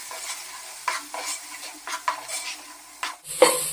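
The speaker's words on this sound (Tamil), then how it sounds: "இப்போ நம்ம சேர்த்துக்கிட்ட குழம்பு மிளகாத்தூளை தக்காளி கூட நல்லா பச்சை மணம் போகும் வரைக்கும் வதக்கிக்கலாம்." Chili powder and tomato sautéing in hot oil for a fish curry, with a soft sizzle under repeated scrapes and stirs of a spoon against the pan, ending in a sharper metallic clink.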